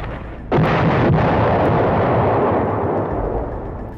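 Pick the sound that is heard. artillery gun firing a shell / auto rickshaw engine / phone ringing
artillery gun firing a shell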